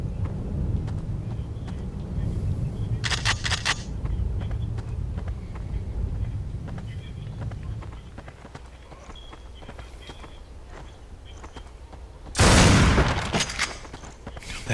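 Shotgun blasts in the first-person shooter game Black: a burst of sharp reports early on and one loud, crisp blast near the end, set over a low rumbling game backdrop.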